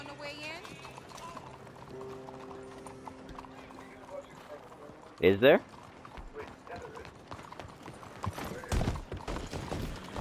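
Clip-clopping horse hooves in Red Dead Redemption 2 trot beneath brief talk, with a sharp mechanical rattle in the middle and a louder thudding burst later on.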